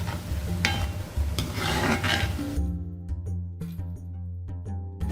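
Boondi batter for motichoor laddu frying in hot oil, a steady dense sizzle with occasional scraping and stirring clanks of a ladle against the pan, close and continuous throughout.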